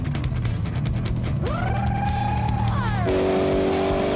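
A Spyker C8 sports car engine revs up sharply, rising in pitch, holds a loud whine, then drops back to a lower idle growl.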